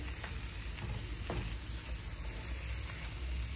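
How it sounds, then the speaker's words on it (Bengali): Flat beans frying with spice masala in a pan, a soft steady sizzle with faint stirring scrapes, quiet and close, no talking. "সিমগুলো দিয়ে মশলার সঙ্গে একটু ভেজে নেব 2 মিনিট।"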